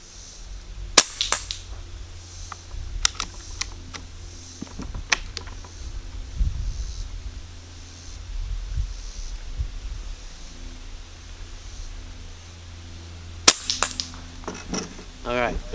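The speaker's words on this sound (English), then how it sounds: "We'll take 3 shots and then we'll go up there and" Rifle shots fired through a CVLIFE 4x32 tactical scope setup outdoors, sharp cracks spaced several seconds apart, one early and one late plus a few fainter snaps, over quiet rustling background.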